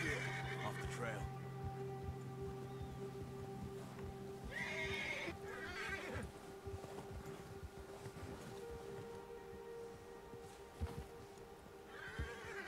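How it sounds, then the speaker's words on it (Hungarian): A horse in the video game Red Dead Redemption 2 neighs in repeated whinnies with clip-clopping hooves, close and clear over a low ambient hum, while someone talks at intervals over it. "meg kell nyugtatni a lovat"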